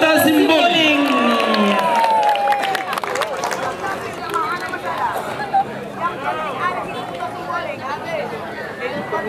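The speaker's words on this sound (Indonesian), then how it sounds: "Beri tepukan yang meriah buat Desa Kuta Simboli." Audience applause at a village Quran recitation competition (MTQ) in Singkil, a broad crowd clapping that starts loud and then thins into a steady patter, with crowd chatter and a voice over it early on.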